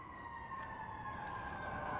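Fire engine and police car sirens wail faintly in the distance beyond an urban winter herb garden, a steady high tone sustained throughout.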